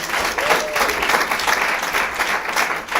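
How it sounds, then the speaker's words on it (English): Dense, close audience applause fills a live show venue for about three seconds, a continuous wash of many hands clapping with a brief whistle near the start. "So really big round of applause for them."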